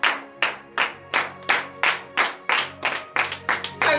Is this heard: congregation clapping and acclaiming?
yes